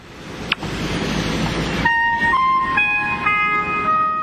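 A short electronic melody from a phone app, clear sustained tones stepping through a simple rising-and-falling phrase after a burst of rumbling background noise.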